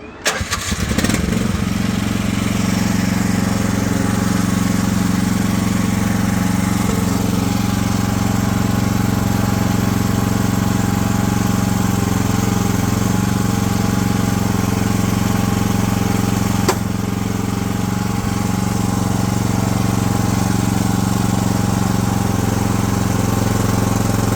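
Engine of a MachPro MP15 Chinese mini excavator cranks and catches, then runs at a loud, steady idle throughout, close by with a constant low rumble.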